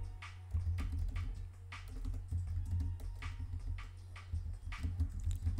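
Keystrokes on a computer keyboard come in quick bursts of typing with brief pauses between, close and fairly quiet over a steady low hum.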